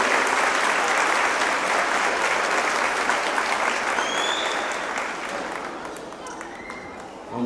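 A church congregation at a worship service applauds the children as they leave, loud massed clapping that gradually thins and fades, with voices mingling beneath it.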